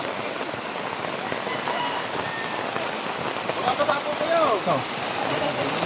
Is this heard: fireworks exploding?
no